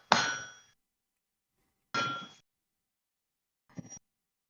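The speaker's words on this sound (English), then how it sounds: "What are you hammering?" A hammer strikes metal while Damascus steel is forged: three ringing clangs about two seconds apart, close and clear, the last one shorter and softer, with silence between them.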